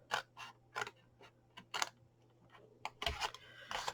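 Scissors snipping card while a tea light candle box is cut out, a series of short, sharp cuts in an uneven rhythm, close and fairly quiet, with no talking.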